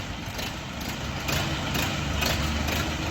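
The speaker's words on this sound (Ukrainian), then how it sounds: "Сьогодні відвантажуємо тракториця Orion RF 404." An Orion RF 404 four-wheel-drive small tractor engine idles steadily close by, a low continuous rumble with a faint high whine above it, no voices.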